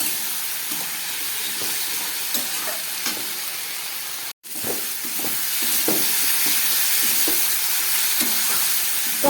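Tomato paste fries in a pan for a vegetarian paneer and vegetable stalk curry, a steady close sizzle and hiss with occasional stirring scrapes and a brief break in the middle.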